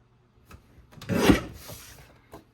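A cardstock strip for a card kit is trimmed, giving a short rasping, rubbing cut of about a second that swells and fades, with faint handling noises before and after and no talking.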